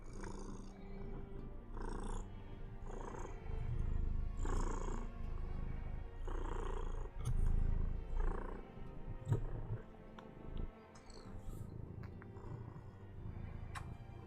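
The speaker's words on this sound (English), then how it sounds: "Can you hear the purring?" A pet cat purring loudly and steadily up close, the rhythmic rumble swelling and easing with each breath, with no talking over it.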